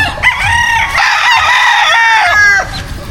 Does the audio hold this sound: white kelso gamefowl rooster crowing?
yes